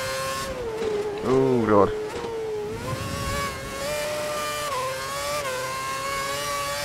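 Formula 1 car engine from F1 2011 on the first practice lap in Australia, a sustained high, rising and falling whine through gear changes, close and loud, with a brief spoken exclamation early on.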